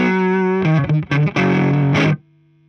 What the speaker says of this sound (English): That's a guitar pedal that is like a preamp that emulates a Fender type or a Marshall